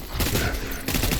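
Video game gunfire crackles as a dense, continuous fusillade of rapid shots, loud and close, with a brief dip before a fresh burst.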